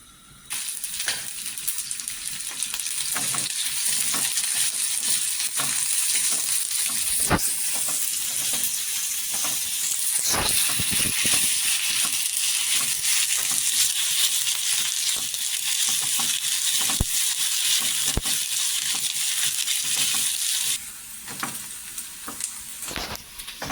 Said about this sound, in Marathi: ते गरम झाल्यावर मी हा कांदा त्याच्यात टाकणार आहे